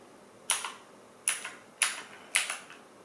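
Four separate key presses on an Aukey KM-G12 RGB mechanical keyboard, each a sharp, close clack with a short rattling tail, spaced unevenly across a quiet background.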